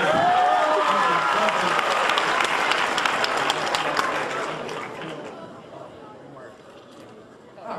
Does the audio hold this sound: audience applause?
yes